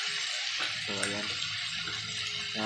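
Hot water poured into a pan of pork adobo with potatoes, a steady close splash and gurgle running throughout with a brief louder burst near the middle, while a person talks over it.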